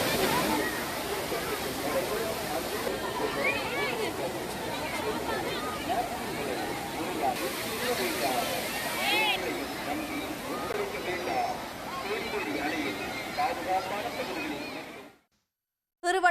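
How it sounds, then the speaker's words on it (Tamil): Water pours like a waterfall over Kodiveri dam near Gobi as crowds of tourists bathe, a continuous rushing roar with splashing under a talking voice, cutting out briefly at the end. "கோபி அருகே உள்ள கொடிவேரி அணையில் அருவி போல கொட்டும் நீரில் ஏராளமான சுற்றுலா பயணிகள் குளித்து"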